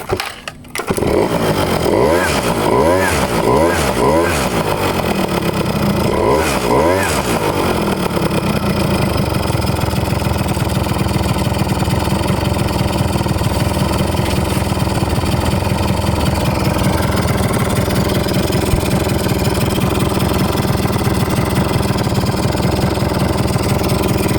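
A SYM Jet 100 Alpha two-stroke scooter with a newly replaced belt, heard up close: a few quick throttle blips rising and falling at the start, then a loud, steady, buzzing idle that runs evenly to the end.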